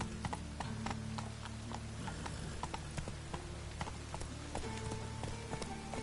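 Roach the horse clip-clopping in The Witcher 3, steady rhythmic hoofbeats at a walking pace, fairly close and continuous over a low in-game ambient bed, with no talk.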